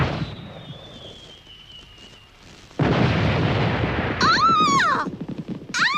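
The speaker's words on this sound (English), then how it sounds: "They're fireworks in your honor." Cartoon fireworks in an animated Moomins episode: a thin falling whistle, then a sudden loud burst that crackles on, followed by warbling, wavering tones as the display goes off.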